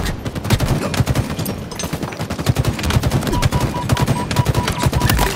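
Rapid automatic gunfire rattles loudly and continuously in the shooter game Halo Infinite, a dense stream of shots with no pauses, close and intense.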